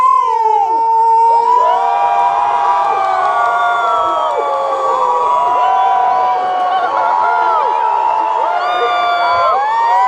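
Audience at a Renaissance Faire show on a Halloween fantasy weekend cheers and whoops loudly and steadily, many voices shouting and yelling together in a dense, sustained roar close by.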